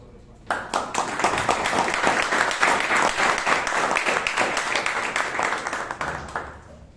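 Audience clapping at a Toastmasters meeting in Bangalore, a sustained burst of applause from a roomful of people that begins sharply, holds steady and tapers off.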